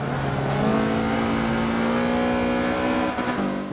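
A Mazda MX5 Cup C Class race car in Forza 5 holds a loud, steady high-revving engine drone down a straight, with a brief dip near the end as it shifts or lifts.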